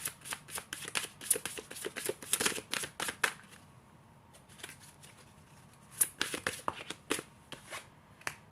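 Tarot cards being shuffled by hand, a quick riffling patter in bursts with a short pause in the middle, close and fairly quiet with no talking.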